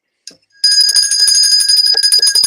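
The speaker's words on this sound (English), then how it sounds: "I just like the way this bell sounds." A bell rings out bright and loud after a single soft tap, its sustained metallic shimmer holding steady for nearly two seconds in a room, with no talk over it.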